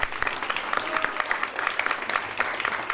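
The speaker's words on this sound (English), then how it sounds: "So give yourself a round of applause." An audience at an awards presentation applauds steadily, a dense patter of many hands clapping throughout, moderately loud with no clear voices on top.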